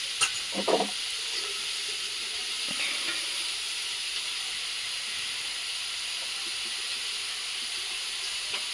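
Prawns frying in a pan of chilli-powdered, salted curry give a steady bright sizzle throughout, with a few soft clinks of a spatula near the start.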